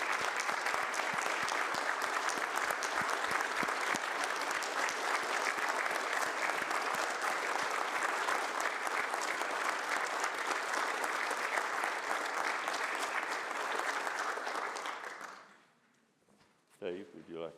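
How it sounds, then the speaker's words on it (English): Sustained audience applause fills a county commission meeting chamber in Sumner County, Tennessee, loud and steady for about fifteen seconds before cutting off, followed by a brief voice. "let's give him an applause."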